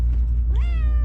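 A single cat meow, close and clear, rising then holding briefly at the end.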